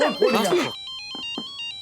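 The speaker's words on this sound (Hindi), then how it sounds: "बजा फोन, बजा फोन" A mobile phone ringtone chirps in short repeated electronic beeps right after a burst of overlapping excited talk, ringing clearly and close by in a domestic sitcom scene.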